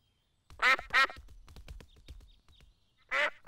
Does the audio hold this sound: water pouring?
no